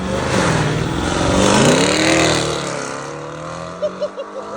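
A BMW M850i with a 4.4L twin-turbo V8, catless downpipes and an X-pipe, driving off in Sport Plus: a loud, raspy roar climbs and surges, then fades as it pulls away, ending with a few short popping bursts.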